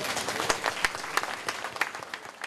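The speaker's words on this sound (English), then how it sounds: "as the congratulatory applause died down" An audience gives congratulatory applause at a university graduation ceremony, steady clapping from many hands without voices.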